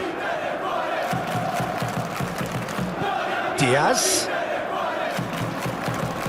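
A stadium crowd in the Football Life 2023 football video game roars in a broad, steady wash that swells briefly midway, with a commentator talking over it.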